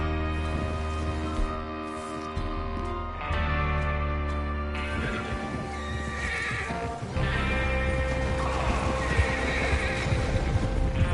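Horses in the Red Dead Redemption 2 video game whinny loudly several times over clip-clopping hooves, a busy, close, continuous mix of neighs and hoofbeats with no talking.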